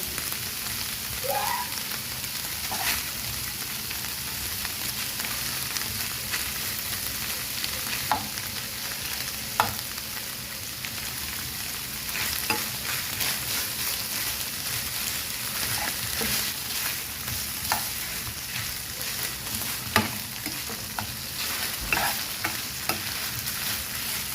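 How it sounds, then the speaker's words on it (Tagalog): Shredded chicken breast toasting in butter in a pan, a soft, steady sizzle with repeated stirring scrapes and light clicks throughout, close and alone without talk. "Next, i-toast natin sa butter."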